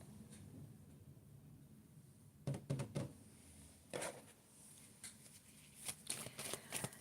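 Playing cards are shuffled in a few quick riffling bursts, with soft taps and shuffles between them at close range in a quiet room.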